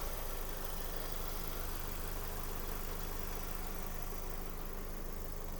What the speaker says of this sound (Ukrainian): Мотор працює дуже тихо рівно.